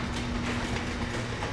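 Metro train running in Dead Island 2, a loud, steady rumble of rolling carriages with a low hum and faint rhythmic clatter that continues throughout.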